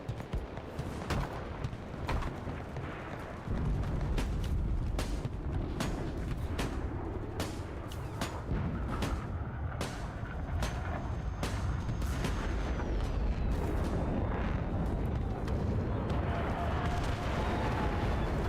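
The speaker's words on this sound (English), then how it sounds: "We need artillery support! Copy. Artillery fire." Artillery fire in the Enlisted shooter game, a series of heavy booms and blasts striking at irregular intervals over rumbling battlefield noise.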